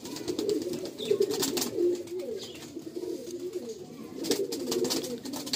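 Male white-eyed Malbai pigeons in a loft coo in a steady, overlapping low murmur, with several clearer rolling coos rising above it and no voices.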